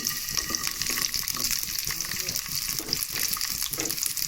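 Onion frying in half a tablespoon of oil for red chutney, a steady close hiss and crackle of sizzling that holds through the whole stretch with faint stirring, no voice.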